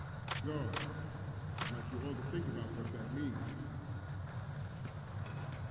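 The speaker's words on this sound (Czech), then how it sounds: "Já se připravím ten foťák." In Metal Gear Solid 2, a camera is readied with a few sharp mechanical clicks and shutter-like snaps near the start, then fainter clicks later, all under a steady hum and someone talking.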